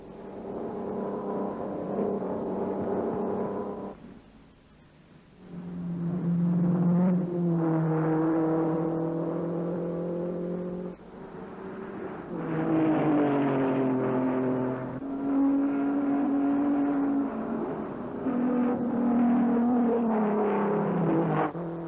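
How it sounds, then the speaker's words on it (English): Formula 1 race cars from 1953 on a wooded road circuit: engines drone and whine steadily, rising and falling in pitch as cars pass and change gear, with a brief dip before the roar returns, moderately loud and without voices. "Ascari's in front with Fangio on his tail."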